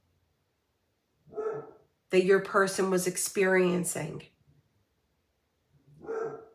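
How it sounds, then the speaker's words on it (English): A dog barks in two short bursts at the start and end, with someone speaking in between; the barks are moderately loud and separated by quiet gaps. "I'm sorry for the barking."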